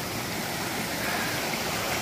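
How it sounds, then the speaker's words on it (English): Glacier Creek, a mountain meltwater creek, rushes constantly with a loud, dense broadband roar of flowing water. It is close and steady throughout, with no voices. "This creek runs up and drains a bunch of the mountains."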